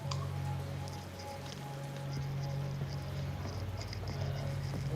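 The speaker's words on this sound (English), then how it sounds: "It's raining." Rain falling in the Yakuza 0 video game, a continuous soft patter with faint scattered drips over a low steady hum, even in level throughout.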